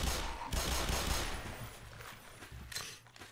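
Gunfire in Black Mesa in a sewer area: rapid repeated shots in quick bursts, moderately loud, with a few sharper cracks near the end and no talk.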